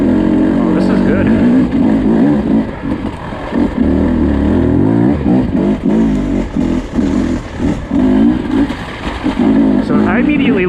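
A 2024 Beta 250 RR dirt bike rides in third gear through muddy clay, its engine droning loud and close with repeated throttle surges and bogging, while a rider talks over the noise.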